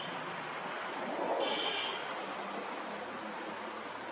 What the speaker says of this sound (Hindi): यहाँ पर देखिए पानी का स्रोत, झरना बह रहा है।